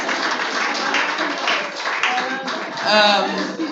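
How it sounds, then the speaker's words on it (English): Audience at a Nigerian women's agricultural progress meeting giving a round of applause, crowd clapping mixed with voices and cheering, swelling near the end. "Please, let's give FCT a round of applause."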